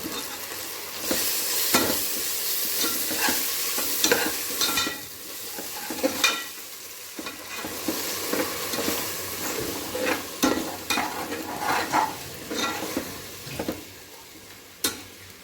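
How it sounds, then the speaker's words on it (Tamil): Ginger garlic paste sautéing in a pan for pulao rice, with steady frying sizzle and repeated scraping stirs of a utensil throughout, no talking. "இஞ்சி பூண்டு பேஸ்ட்டு போட்டுக்குவோம். தேவையான அளவு போட்டு வதக்கி விட்டுருவோம்."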